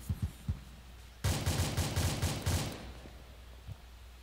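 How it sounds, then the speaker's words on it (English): Gunfire in the ARMA 2 military game during an assault on an enemy camp: a few single shots, then a dense automatic burst of roughly a dozen rounds, with a final lone shot, fairly distant and muffled. "Where's the gunshot coming from?"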